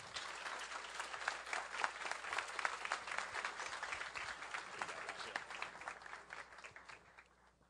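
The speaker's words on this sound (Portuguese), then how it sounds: "Vamos recebê-lo com aplauso, mais uma vez." A lecture audience of a few hundred people applauds to welcome the guest speaker onto the stage: continuous, evenly dense clapping at a moderate distance that dwindles near the end.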